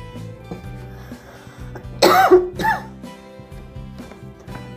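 A person with a cold coughs several times in a short burst, close and loud over quiet kitchen sounds as tomatoes cook in a pan.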